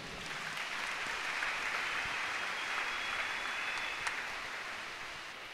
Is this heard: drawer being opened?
no